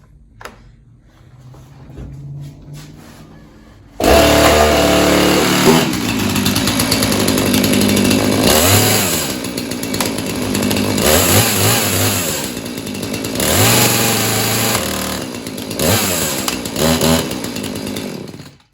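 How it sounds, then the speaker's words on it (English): A Husqvarna 445 chainsaw, already warmed up, roars to life and revs loud and close for about fifteen seconds, its engine pitch rising and dropping repeatedly as the throttle is worked and the brake engaged a couple of times. "I'll crank it up, rev it up a little bit and engage with the brake a couple times"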